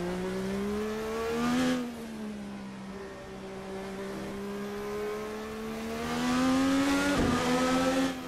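An IndyCar engine in the racing simulator Assetto Corsa drones at steady revs, swelling as the throttle opens and briefly shifting near the end, with no talking over it.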